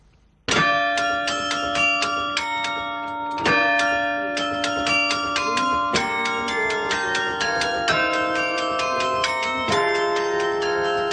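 The 62-bell carillon of Tourcoing, played manually, rings out a melody with overlapping, sustained ringing tones struck in quick succession, loud and continuous throughout.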